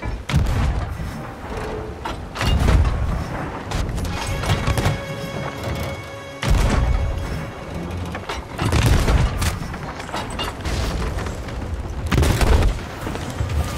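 Repeated heavy booms of ship cannons fire in bursts in the game Sea of Thieves during a PvP battle, loud and close, with clattering and rumbling between the blasts and no talk.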